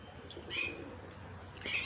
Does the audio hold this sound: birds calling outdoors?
yes